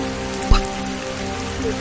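Steady rainfall in a village setting, with one brief thump early on over an even hiss and faint tonal background.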